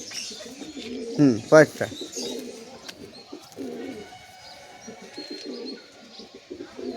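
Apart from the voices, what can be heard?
pigeons cooing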